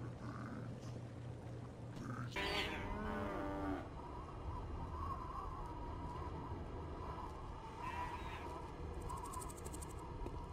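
Cattle moo in the Postal 2 video game, a loud drawn-out bellow standing out over a steady game soundscape, with fainter lowing calls following later.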